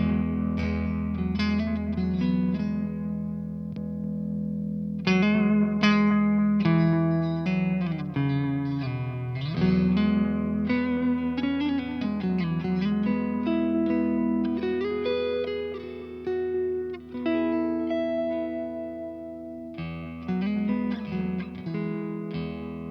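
Strat-style electric guitar played through a Chase Bliss and Analog Man boost pedal set low and transparent, lightly compressed, with continuous chords and single-note lines ringing out alone.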